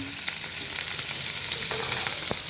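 Stuffed squid frying in a home kitchen pan gives a soft, steady sizzle with a few faint clicks of utensils, quiet and close, no voices.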